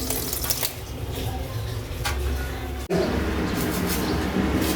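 Dishes are washed under running water, a close, steady rushing hiss with faint clinks, interrupted once by a brief dip before the flow resumes.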